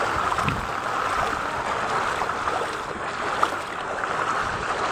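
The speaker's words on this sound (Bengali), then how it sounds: "হাঁটু পানি ভাঙ্গা যাইতেছি" Someone wades through knee-deep floodwater on a flooded Dhaka street, making a steady close sloshing and splashing wash of water with faint background noise.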